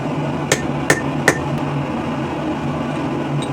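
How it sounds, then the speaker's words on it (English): Three sharp hammer blows ring out on a steel punch while a rivet header tool is forged from scrap steel, evenly spaced under half a second apart, followed by a faint fourth tap over a low steady hum. "Make sure you pull your punch after every few blows"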